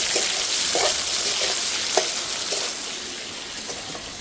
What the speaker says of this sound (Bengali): এর জন্য একটু লবণ এবং একটু হলুদ দিয়ে আগে ওলটা ভেজে নেব